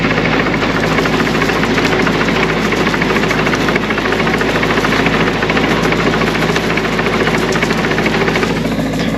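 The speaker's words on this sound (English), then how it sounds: "And Jeff is coming back here with the tractor, so I'll show you, I'll let you see him go down the row" A tractor's engine drones loudly and steadily as it drives down a crop row spreading fertilizer, a constant rumbling, knocking hum close by with no talk.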